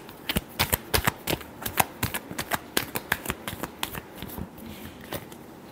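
Tarot cards riffle and snap in a quick run of sharp, papery bursts, one shuffle after another at a steady pace, close by with no talk.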